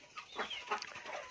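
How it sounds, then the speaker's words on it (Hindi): A hen sitting on eggs in a village coop gives soft, repeated clucks in an uneven rhythm, close but fairly quiet. "वहाँ पे भी एक मुर्गी अंडे पे बैठी है"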